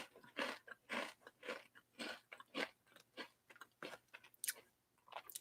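A thin, crunchy, lightly salted Japanese snack bitten and chewed close up, with a quick series of loud crisp crunches in an uneven rhythm and brief pauses between bites.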